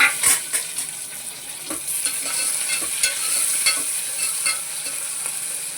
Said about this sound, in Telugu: వేగనిద్దామండి, మెత్తగా అవ్వాలి టమాటా